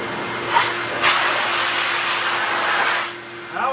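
A car wash air dryer blows with a loud, steady roar for about three seconds before winding down, with brief knocks at the start.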